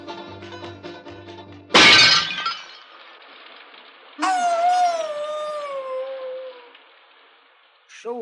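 A worn-out old hound dog, a Muppet character, lets out a long, wavering howl that slides downward, following a loud crash of breaking glass over music.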